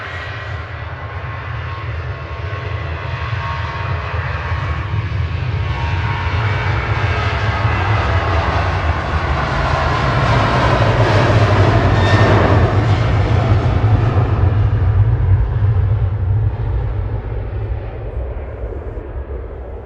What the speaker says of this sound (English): Royal Air Morocco heading back to Casablanca now with flight 819.